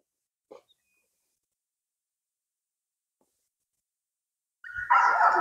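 A frightened German wirehaired pointer gives a brief soft whine, then after a long silence breaks into a loud, close burst of barking and whimpering.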